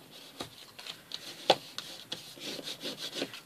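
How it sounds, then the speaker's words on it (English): A folded A4 card pop-up is burnished with quick, close rubbing strokes, a soft scraping swish repeated several times with one sharper scrape in the middle. "once you've got it all done, it's worth burnishing the whole lot"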